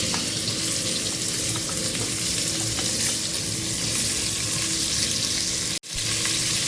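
Potato and chopped vegetables drop into a hot frying pan with carom seeds and chillies, giving a steady, close sizzle with faint stirring, then a brief break before the frying resumes.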